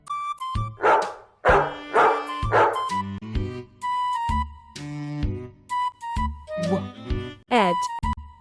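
A dog barks and yips in a quick run of short, loud, close calls with brief pauses between them, ending in a higher whining yelp.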